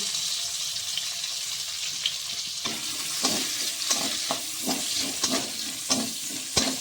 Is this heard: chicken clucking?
no